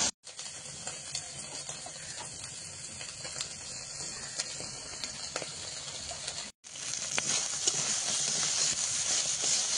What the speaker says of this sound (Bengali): তাই কাঁকড়াটা আর একটু ভালোভাবে ভেজে আর লতি দিয়ে দেবো।